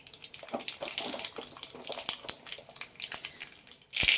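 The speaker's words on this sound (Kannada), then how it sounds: "ಸಾಸಿವೆ ಚೆನ್ನಾಗಿ ಚಿಟ್ಕುತ್ತಾ ಇದೆ" Mustard seeds splutter in about two teaspoons of hot cooking oil in a pan, a rapid, uneven run of sharp pops and crackles up close, ending in a louder burst, with no speech.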